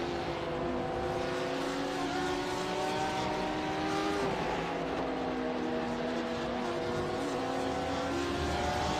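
A Porsche race car in the iRacing sim at Sebring during a 12-hour race drones past with a sustained engine tone. The pitch sweeps as it passes midway, while other car engines hum steadily underneath.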